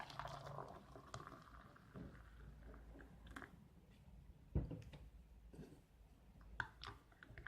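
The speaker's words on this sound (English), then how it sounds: "Add our hot water in." Hot water is poured into an MRE beef roast meal pouch, a faint, soft, bubbling trickle with a few light clicks and rustles.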